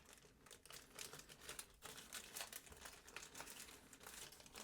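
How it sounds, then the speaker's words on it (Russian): Small diodes tossed into a plastic bag, giving soft crinkling and rustling of the plastic with light clicking bits, quiet and close, no voices. "Все, я их закидываю в пакет."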